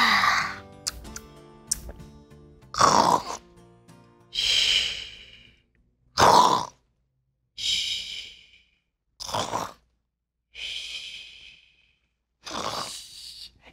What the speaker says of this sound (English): It sounds like she's snoring.